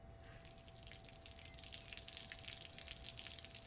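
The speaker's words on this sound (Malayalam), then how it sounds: "ദേ അമ്മേ, ടാങ്ക് നിറഞ്ഞ് വെള്ളം വീഴുന്നു." Water overflows from a full household water tank as its motor runs, a faint, continuous splashing and trickling with a steady low hum beneath, heard from some distance with no voices.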